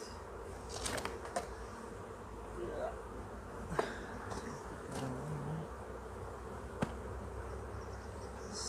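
Honey bees buzz around an open hive in a continuous low drone, with scattered clicks and knocks from nearby handling and faint background noise.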